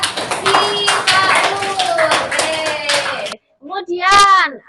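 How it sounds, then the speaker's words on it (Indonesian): A classroom of students claps for a classmate in quick, light, scattered bursts mixed with chatter and children's voices, followed by a short pause and a voice speaking. "Tepuk tangan buat Mbak Sifaun"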